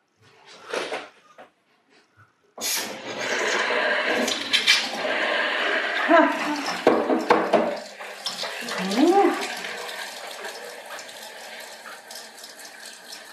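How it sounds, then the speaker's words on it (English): Water from a newly installed budget kitchen tap runs steadily into the sink after an opening burst, a continuous hissing splash with people talking over it. "We have water."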